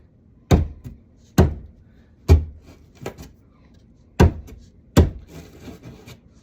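A knife stabbing into drywall to patch a hole, heard as six sharp, solid thunks spaced unevenly over several seconds, with faint scraping between strikes and no talking.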